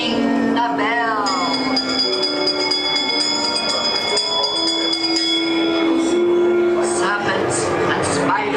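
A bell rings inside a Disneyland haunted attraction amid a dense, loud mix of eerie music and sustained tones, the chime tones ringing out over the layered soundtrack.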